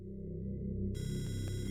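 Metroid Prime data received tone, used as a phone text tone: a bright, sustained electronic chime that begins partway through, ringing over a low background rumble.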